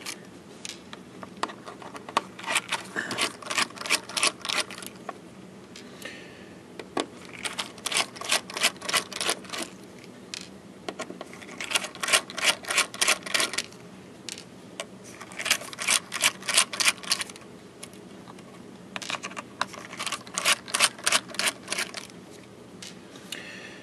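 Screws being removed from a hard drive, heard as several bursts of rapid, crisp mechanical clicking with short pauses between them, close and fairly quiet.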